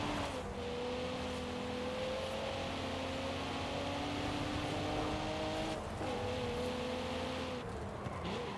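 A car engine drones steadily in Forza Horizon 5 as the car cruises along, a sustained hum with gently shifting pitch and a brief gear change midway, constant and moderately loud.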